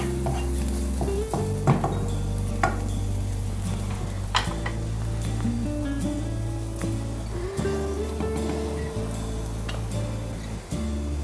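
Food sautés and is stirred in a pan, a continuous close sizzle broken by frequent clinks and scrapes of a utensil against the metal, steady throughout.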